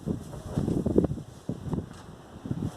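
Gusty wind during a storm sweeping through Germany, buffeting the microphone in uneven rushing surges with brief pulses, fairly close and continuous with no voices.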